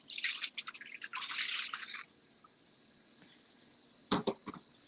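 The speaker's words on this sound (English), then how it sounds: "adding my water" Tap water pours into a bowl of pizza dough ingredients (flour, Mediterranean sea salt, fresh yeast) in two splashy bursts, then a short pause and a few brief drips and spatters close by.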